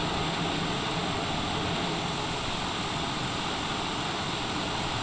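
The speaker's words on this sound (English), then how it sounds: "There goes an aircraft out." A steady, loud roar of an aircraft engine departing San Jose International Airport fills the air, continuous and broadband, with no breaks or voices.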